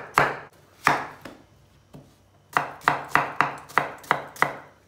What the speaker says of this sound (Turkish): Bir tane büyük boy domates doğrayacağız.